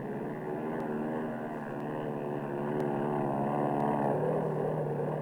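World War II Navy carrier aircraft (Helldivers, Avengers, Hellcats and Corsairs) in flight, a continuous droning propeller engine roar that swells slightly toward the end, with no talking.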